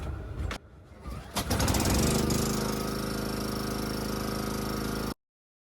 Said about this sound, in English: Let's run it off the welder.